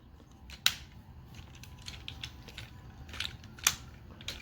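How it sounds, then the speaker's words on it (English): Plastic parts of a Tobot Arcbolt transforming toy snap into place, giving a few sharp close clicks among quieter handling rattles and taps. "Click this into place. Click that into place."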